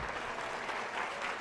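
Audience applause at a book fair talk with the author JJ Benítez, a steady wash of clapping from a crowd, fairly loud and continuous through the short stretch with no speech over it.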